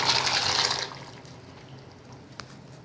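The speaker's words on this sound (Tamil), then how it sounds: "தண்ணி நல்லா கொதிக்க ஆரம்பிச்சிடுச்சு." Water boiling in a pot for macaroni pasta gives a brief, soft bubbling hiss that fades after about a second, leaving a faint quiet simmer.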